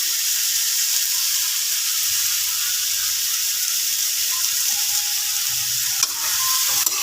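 Shrimp sautéed with pepper powder sizzle steadily and loudly in a pan, with a few soft scrapes of stirring and a brief clatter near the end, and no talking.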